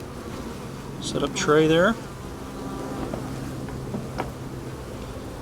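Bees buzz around an open beehive being worked for small hive beetles, with a brief loud buzz passing close by amid a faint steady hum, and a person speaks briefly.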